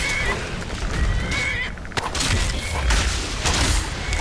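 A horse neighs in the video game Skyrim during a fight with skeleton enemies, its whinny rising over a dense, steady din of combat noise and impacts.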